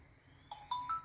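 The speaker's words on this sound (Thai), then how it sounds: "อ่าได้เสียงโทรเข้าแล้วครับ" An Android phone rings for an incoming call, giving three quick, faint chime notes that step upward in pitch, with no talking.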